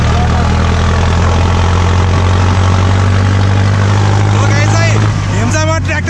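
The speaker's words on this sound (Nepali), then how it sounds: "हेम्चामा ट्र्याक्टरको टप स्पिड हान्दैछौँ हामी" A Mahindra tractor engine runs flat out at top speed, a loud, steady low drone heard up close and unbroken throughout, with brief voices near the end.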